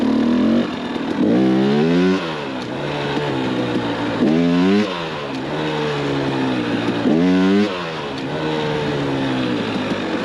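A Lectron Billetron Pro Big Air electric dirt bike accelerates in second gear, three rising whines sweeping upward in pitch, each followed by a steady hum. The motor sounds loud and close throughout, with no talk.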